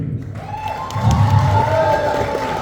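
Audience applause at a Malayalam movie audio launch event: a crowd clapping and cheering that swells after a quieter opening and continues steadily, with a faint tonal hum underneath.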